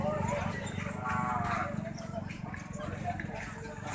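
Livestock sounds from a goat kid at a busy goat market in Sahiwal, faint under ongoing nearby talk and crowd noise.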